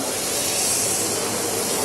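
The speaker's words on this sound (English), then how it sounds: "Ooh, sizzling butter." Steady, loud sizzling hiss of butter in a hot pan, continuous and even throughout with no voices.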